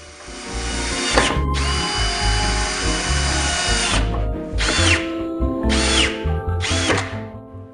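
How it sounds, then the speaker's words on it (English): A power drill drives wood screws through a corner bracket to fix a desk's return shell to the workstation: a long whirring run, then three shorter bursts separated by brief pauses, loud and close with no talk. "Attach the corner bracket using wooden screws to secure the return shell to the workstation."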